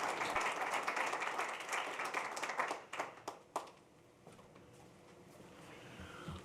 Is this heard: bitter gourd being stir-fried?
no